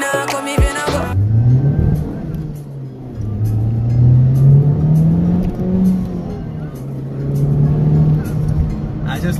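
Honda Civic Type R FK8 exhaust, a throaty low drone that swells and eases as the engine revs, close and fairly loud, with a sharp burst of noise at the start.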